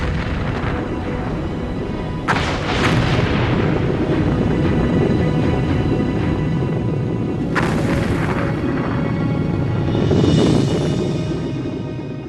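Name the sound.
volcanic explosions near Iceland, Surtsey eruption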